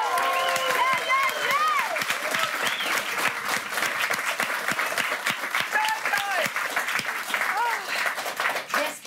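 Studio audience applauding a band on a German late-night show, loud dense clapping with some cheering, while a voice speaks over it throughout.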